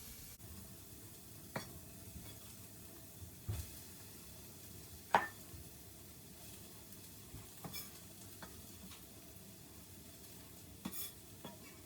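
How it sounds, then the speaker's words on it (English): Apple, onion and garlic sizzling in olive oil in a pot, a soft continuous sizzle broken by occasional sharp clicks and scrapes of stirring, fairly quiet and close. "I'm just putting the apple and the onion and the garlic in just to pre-cook a little bit"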